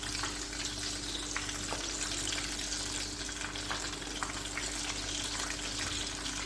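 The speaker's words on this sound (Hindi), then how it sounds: "अब मैं इसमें डालूंगी पीसेस चिकन, और ये मीडियम आंच पे पकाना है मैंने।" Chicken pieces fry in hot oil over medium heat with a dense, steady sizzle and crackle that keeps going without a break and with no talking.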